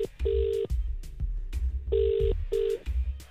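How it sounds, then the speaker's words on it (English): Telephone ringback on an outgoing call, a repeated electronic double tone in short pulses with gaps between them, heard alongside low thumping beats. "Well, we phoned Teddy"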